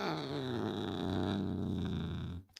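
A domestic cat gives a low, steady purring growl close by, continuous for about two and a half seconds before cutting off, with no talk over it.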